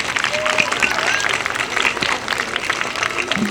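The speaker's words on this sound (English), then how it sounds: "Give everybody a big round of applause, please." Children and adults clap at a school award ceremony in a schoolyard, a lively, continuous round of applause with shouts and chatter mixed in.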